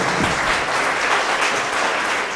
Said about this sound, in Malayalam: ബ്രദറിനും ടീമങ്ങൾക്കും നമുക്ക് നല്ലൊരു കയ്യടി കൊടുത്തുകൊണ്ട് നന്ദി പറയാം